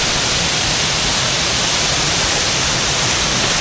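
Palasgaon waterfall roars as a steady, loud wash of broadband rushing water that stays unbroken and even throughout, with no voices above it.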